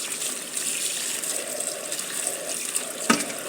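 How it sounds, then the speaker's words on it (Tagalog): Mangoes being washed in water for pickling, a steady close splashing and running-water wash with a sharp slosh near the end, no voices. "Ayan guys, ang ating hugasan na mangga."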